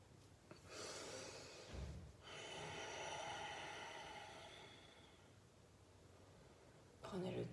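Steady breathing in and out during a nauli kriya yoga exercise, a long airy exhale lasting several seconds, then a fresh sharp intake near the end, close and quiet.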